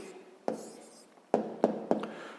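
A pen writes an answer down on paper during a sixth-grade maths exercise, with a few short, sharp strokes and taps heard close up in a quiet room.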